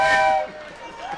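A person's voice imitates a train whistle in a short, bright, sustained tone that slides slightly in pitch, loud and close, then fades into a lower murmur with a rising whistle-like tail at the end.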